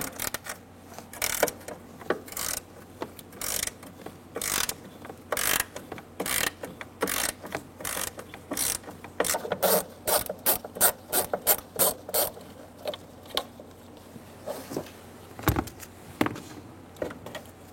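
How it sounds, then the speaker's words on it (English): A ratchet with a T40 bit turns out the bolt of a car's hood release handle, sharp rhythmic clicking in quick bursts close by, speeding up in the middle and then slowing with scattered single clicks. "Using a T40 bit, we're going to remove the bolt for the hood release handle."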